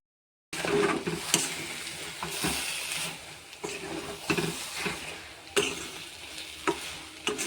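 Jute leaves stirred repeatedly in a frying pan, the spatula scraping in irregular strokes over a steady close sizzle, with no voices.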